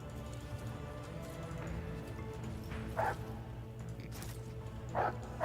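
A dog in the video game Warhammer 40K Rogue Trader barks in two short bursts over a steady bed of game music and ambience.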